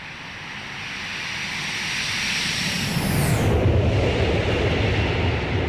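A Boeing 727 jet in a flight simulator passes by close and loud, its roar swelling steadily and peaking with a sharp whine sweep as it goes over, then a broad rumble carries on. No talking.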